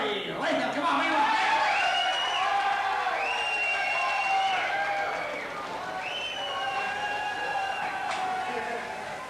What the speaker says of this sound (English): Please bring him on a big round of applause, a big round of the clap for Mr. Gary Latham